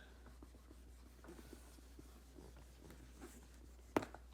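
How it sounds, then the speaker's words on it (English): Pencil writing and erasing on paper during a probability exercise: soft, quiet scratchy strokes and rubbing throughout, with one sharper tap or knock near the end. "So then we'll erase A."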